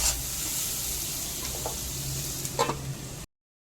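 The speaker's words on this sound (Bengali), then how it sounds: "মাঝে মাঝে ঢাকা খুলে নাড়াচাড়া করে সবজিগুলো ভেজে নিচ্ছি" Carrots and other vegetables fry in a pan with a steady close sizzle and hiss, broken near the end by a few light scrapes of stirring, before cutting to silence.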